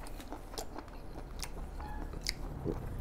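Close, repeated biting and chewing on dipped octopus, chewy yet crunchy, eaten with spicy noodles and squid; a series of crisp, crunchy bites over steady moist chewing, with no talk.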